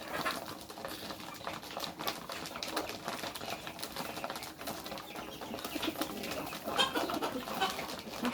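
Pigeons at their evening feed coo softly amid constant light pattering and pecking taps, with occasional brief wing flutters nearby.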